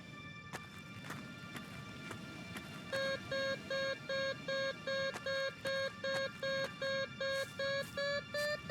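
Rhythmic electronic beeping of a metal detector in the video game Kathy Rain, a steady run of short, evenly spaced tones starting partway in and speeding slightly toward the end over a low ambient background.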